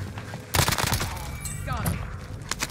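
A sniper rifle shot in Warzone on Rebirth Island lands as a sharp, loud crack followed by a burst of rapid follow-up fire, with someone talking over the noise.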